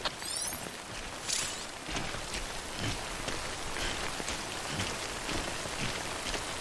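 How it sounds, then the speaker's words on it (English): Steady rain falls on surfaces in the video game Death Stranding, with dense patter and a few sharper drops, close by and uninterrupted, with no voices. "Good thing it was raining."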